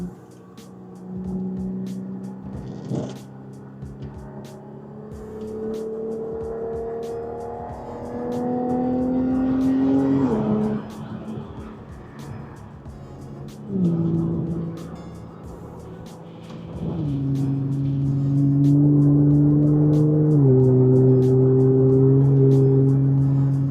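An Audi S4 engine on a night drive with the windows cracked, shifted manually, revving up through the gears with rising pitch, several upshifts and deep resonant acceleration heard from inside the cabin.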